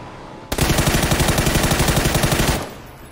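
Sustained automatic gunfire in a video game, a rapid rhythmic burst of shots lasting about two seconds, loud and close, with no talk over it.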